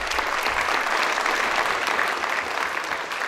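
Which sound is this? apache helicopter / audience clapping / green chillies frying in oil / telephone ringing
audience clapping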